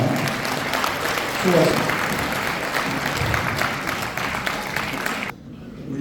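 An audience at a humanities lecture event claps steadily in a hall. A voice speaks briefly over the applause, which cuts off abruptly near the end.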